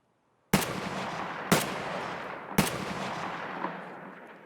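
Shotgun fire in Escape from Tarkov, heard as three loud, evenly spaced blasts about a second apart, each followed by a long echoing decay into quiet.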